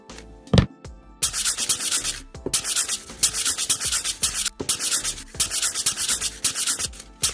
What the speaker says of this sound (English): So I'm going to tape this off and then sand it